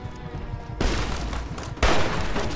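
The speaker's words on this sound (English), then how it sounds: "Stop shooting me." Dense bursts of gunfire from enemies in the video game Fallout: New Vegas, a loud, continuous rattle with two sharper volleys, no talking.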